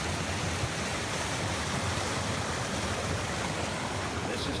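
Water of Dog Creek, about 10 miles northwest of Wayne, flows and rushes in a steady, broadband wash, constant and fairly near with no talk.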